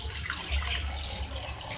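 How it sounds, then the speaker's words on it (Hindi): Water from a glass is poured into a pot of beef karahi with garlic paste, giving a steady splashing, running flow close by for under two seconds, with no talking. "पानी ऐड करूँगी इसमें ताकि गल जाए"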